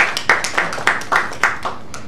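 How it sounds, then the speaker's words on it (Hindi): An audience at a literary event in Ajmer claps to welcome an author, with loose, scattered handclaps in uneven bursts that come fairly close and carry no talk over them. "कृपया तालियों से इनका स्वागत करिए"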